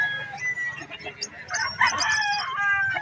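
Rooster crowing among chickens at a crowded animal market in Bocaue, Bulacan, a loud strained crow rising midway over clucking birds and background chatter.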